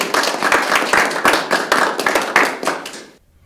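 An audience at an awards ceremony claps for Tony Lawrence, a lifetime achievement honoree, in a brisk, uneven burst of many hands that carries on for about three seconds and then stops abruptly.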